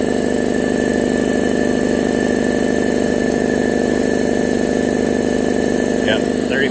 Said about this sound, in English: Pump is spinning